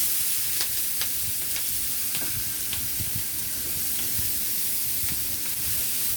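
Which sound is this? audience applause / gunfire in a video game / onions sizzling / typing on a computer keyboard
onions sizzling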